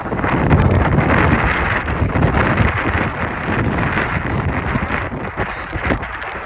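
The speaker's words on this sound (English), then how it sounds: "even though it's really windy out here, but it feels good" Strong wind blows outdoors in open nature, buffeting the microphone with loud, continuous roaring gusts that ease slightly partway through and then hold steady.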